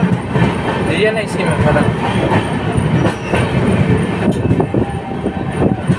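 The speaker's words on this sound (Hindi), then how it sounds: "Crossing with Jaynagar Patna intercity express." Loud, continuous rumble and rattle from inside a moving Indian passenger train as it crosses the Jaynagar Patna Intercity Express, with faint wheel squeal; a person speaks briefly over the noise.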